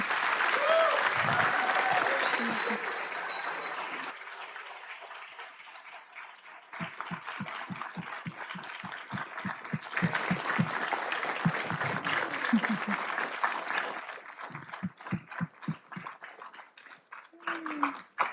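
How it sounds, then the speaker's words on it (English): A big round of applause at a city council meeting, with crowd clapping that swells, dips and picks up again, along with cheers and voices mixed in. "get a big, big, big round of applause for all these incredible men"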